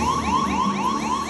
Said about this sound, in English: everyone struggles to remember the meaning of a 1202 program alarm